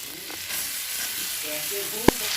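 Ground ginger and tomato sautéing in a pan for a prawn malai curry, a steady close sizzle with a sharp clink of a utensil near the end, faint murmur of a voice beneath.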